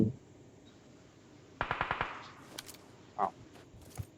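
Gunfire in a video game: a quick burst of about five rapid shots, followed by a few scattered single reports, fairly faint against a quiet background.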